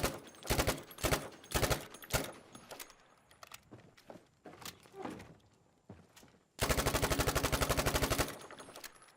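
Thompson submachine gun firing on a Battlefield V practice range, short sharp bursts early, then a single long rapid-fire burst near the end, with mechanical clicks and footsteps in between.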